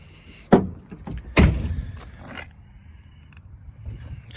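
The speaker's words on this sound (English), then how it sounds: "All the doors open and shut real good." Two solid car door thunks close together on a 1966 Dodge Charger 426 HEMI, each with a short rattle, followed by quieter handling noises in a calm outdoor space.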